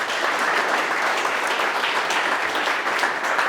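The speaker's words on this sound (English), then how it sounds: "So please, the first big round of applause to Mr." A room of attendees at a tech meetup breaks into sustained applause, a dense, even wash of clapping that holds steady throughout without any talking.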